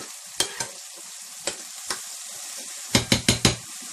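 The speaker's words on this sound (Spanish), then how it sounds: "Esto se fríe en un minuto." Ingredients for a Lenten chickpea stew frying in a pan, a steady close sizzle broken by sharp scraping stirs, a few spaced strokes and then a quick cluster of four near the end, no talk.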